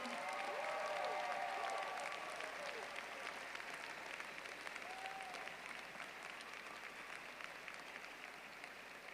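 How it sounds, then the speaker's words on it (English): A commencement ceremony audience at a university graduation claps in sustained, dense applause across the whole stretch, steady and fairly loud, with a few faint voices and cheers mixed in. "Take 10 seconds, please, to give them a thunderous applause of thanks for me."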